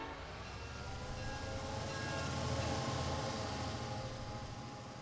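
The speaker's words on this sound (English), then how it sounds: "Our first boxcars are rolling." Long goods train of boxcars rolling in the railway simulation game Transport Fever 2, a steady continuous rumble with faint wheel clatter, moderately loud and alone.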